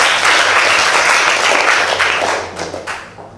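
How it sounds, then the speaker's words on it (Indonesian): A classroom audience applauds a student named Elis with loud, dense clapping close by, which thins out and fades over the final second. "Tepuk tangan buat Elis."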